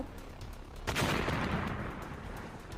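An explosion sound effect in a manga story bursts out as a sudden loud blast, then a rumbling roar that fades slowly, heard alone with no talk.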